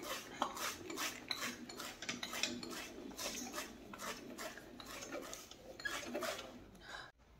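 A gandasa chopper cuts fenugreek leaves in steady, rapid chops, each a crisp thud-and-scrape, repeating evenly at close range for several seconds before stopping abruptly.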